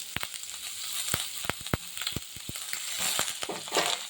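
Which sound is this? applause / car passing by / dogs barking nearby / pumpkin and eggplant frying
pumpkin and eggplant frying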